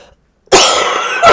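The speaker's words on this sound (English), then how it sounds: "Your cough's getting there" A single loud, harsh cough after a moment of silence, close by, followed by a brief second burst.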